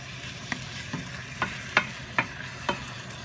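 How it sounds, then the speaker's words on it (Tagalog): Chicken tinola with ginger, garlic and onion is stirred in a pot, making a soft sizzle under a series of about six spoon scrapes and taps at an uneven rhythm. "Haluin natin ng kaunti."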